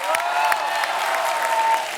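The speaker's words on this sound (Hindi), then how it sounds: "जोरदार तालियां होनी चाहिए." Loud, continuous TV comedy show studio audience applause, dense clapping with a slight hum of crowd noise underneath.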